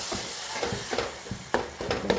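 Dal tipped into a pot of simmering sambar and stirred, giving soft scraping and splashing strokes with light sizzling in between, several uneven stirs close by and fairly quiet.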